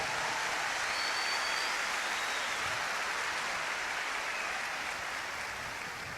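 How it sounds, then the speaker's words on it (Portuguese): A church congregation applauds in a steady, dense wash of clapping that holds evenly for the full stretch, with no voices standing out above it. "pode aplaudir e agradecer a Deus"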